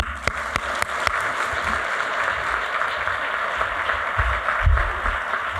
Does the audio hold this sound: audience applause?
yes